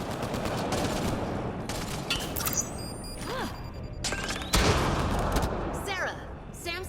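Gunfire in the video game Mass Effect Andromeda, with bursts and shots over a dense, busy battle mix of effects and music, fairly loud throughout.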